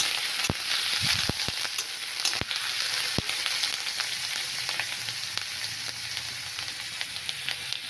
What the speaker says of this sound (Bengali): এবারে পেঁয়াজ দিয়ে ভাজাচ্ছে, টমেটো দেওয়া হবে।